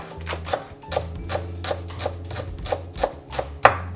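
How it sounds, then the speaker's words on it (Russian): A knife finely chopping a small bunch of green onion on a board, a steady run of crisp, close taps at an even brisk pace, with no talking. "Небольшой пучок лука нарезаю мелко."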